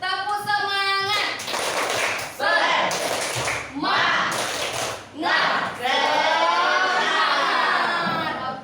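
Children in a classroom do a rhythmic spirit clap, bursts of grouped claps alternating with loud chanting voices of the whole class and a teacher speaking.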